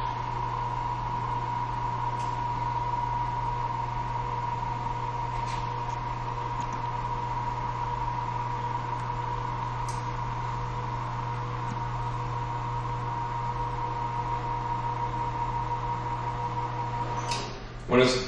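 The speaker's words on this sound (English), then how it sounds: "the motor will shut off when it's all the way down" A hospital bed's electric motor lowers the bed during a maintenance check, giving a steady, close mechanical hum and whir that runs unbroken and evenly, with no talking over it, until a brief clunk near the end as it stops.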